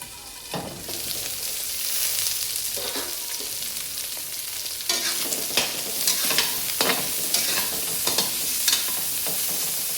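Pork frying in a covered pan, its fat slowly rendering out as white adobo cooks for a sweet pakbet meal, giving a steady close sizzle with scattered louder pops and crackles throughout, no talking.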